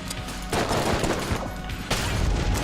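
Dense gunfire barrage in the Enter the Gungeon bullet-hell game, rapid overlapping shots bursting loud and continuous with sharper volleys around the middle and end.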